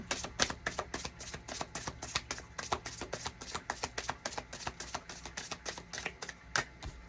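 A deck of oracle or tarot cards is shuffled by hand for a love reading, giving a quiet, rapid, evenly repeated patter of card slaps that runs steadily for several seconds with no talk.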